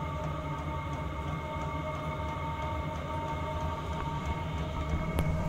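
A cheap 12V Chinese diesel heater on a boat runs with a steady, dense mechanical drone and hum, holding fairly even in loudness throughout, with a faint click near the end.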